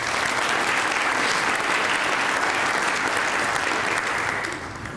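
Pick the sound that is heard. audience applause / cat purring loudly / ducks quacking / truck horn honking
audience applause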